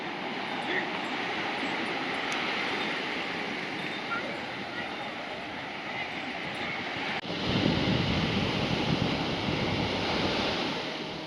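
Strong ocean waves crash and roar continuously at Puri beach on the Odisha coast, a loud broadband wash that swells sharply in the final seconds as a bigger wave breaks close by.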